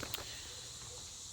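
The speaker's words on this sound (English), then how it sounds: "Sorry about the cicada noise." A steady outdoor summer drone of cicadas, a continuous hissing buzz filling the background at low level with a couple of faint ticks near the start.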